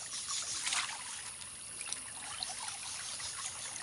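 Water trickles and splashes steadily from a narrow canal channel, a constant close babbling flow with a few brighter drips and splashes and no voices.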